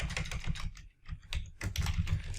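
Quick, uneven bursts of keystrokes on a computer keyboard as a search term is entered, close and fairly soft, with a brief pause near the middle before the clicking resumes.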